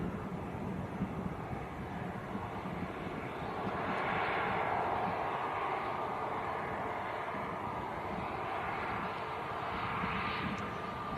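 A British Airways airliner takes off at Manchester Airport, its engines a steady, broad roar that swells slightly midway and holds at moderate distance, with wind buffeting in the background and no talking.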